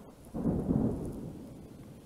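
A single low rumble of thunder during a thunderstorm, swelling quickly and then fading slowly over a second or two, moderately distant, with faint rain noise beneath.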